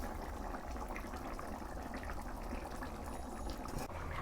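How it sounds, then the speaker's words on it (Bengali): Chana masala gravy bubbling in a pan on a village kitchen stove, a steady dense simmering and spluttering texture that stays even throughout, with no voices. "এই দেখুন ঝোলটা কতটা সুন্দর ফুটতিছে"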